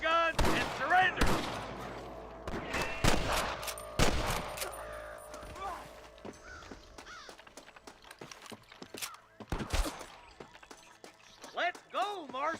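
Repeated gunfire from a Western shootout in Red Dead Redemption, sharp bursts of shots clustered early then scattered, loud and close, with in-game voices speaking between volleys.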